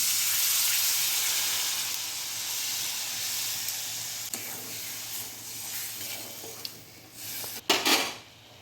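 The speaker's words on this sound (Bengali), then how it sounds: "এবারে জল দিয়ে দিচ্ছি" Fish roe frying in a pan as water is added, a broad steady hiss of sizzling and steam that dips and swells, with a few sharp clinks of utensil on pan near the end; no talk.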